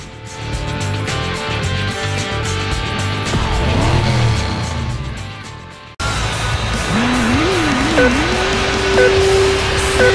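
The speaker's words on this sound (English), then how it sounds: "This is the Ford TS50." Ford TS50 with a 5.6-liter V8 and Tremec five-speed manual in Need for Speed Hot Pursuit 2, engine revving and rising through gear changes, a brief cut, then wavering revs settling into a steady high drone.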